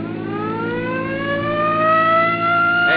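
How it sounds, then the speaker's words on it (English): A wailing police car siren in a radio drama, a long, loud continuous rising tone dominating with no voices over it. "Come on, hit your siren."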